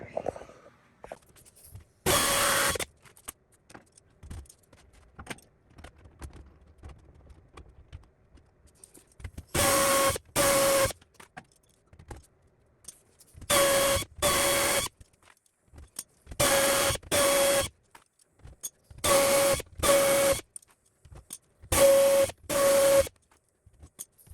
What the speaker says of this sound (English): now I'm going to match drill these holes from the bottom